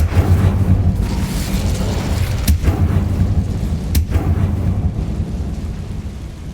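The Incendio fire spell in Hogwarts Legacy gives off a loud, continuous roaring rumble with a couple of sharp cracks, filling the scene with heavy low-end noise.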